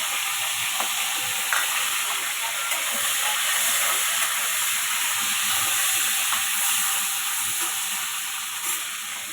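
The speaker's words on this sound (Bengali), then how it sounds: "মাছের মাথাতে লবণ আর হলুদ মিশিয়ে এটা এখন ভাজা হবে" Fish head coated with salt and turmeric fries in hot oil, giving a loud, continuous hissing sizzle that holds steady for the whole stretch with only a few small pops; no voices.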